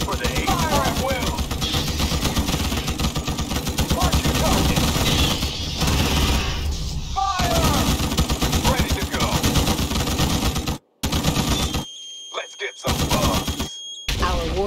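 Gunfire in the strategy game Starship Troopers: Terran Command, a continuous loud barrage of rapid machine-gun fire mixed with game sounds and voice lines, dropping away abruptly near the end.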